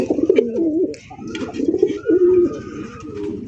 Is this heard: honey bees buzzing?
no